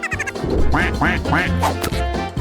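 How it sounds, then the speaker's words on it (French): Repeated nasal duck quacks from a video game in quick succession over a steady synthetic musical backdrop, loud and close. "Elle pourra regarder les jolis canards nager le soir."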